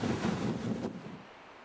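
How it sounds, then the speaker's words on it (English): Gusty wind buffeting the microphone, a low rushing roar that eases off after a moment. "So it's pretty windy."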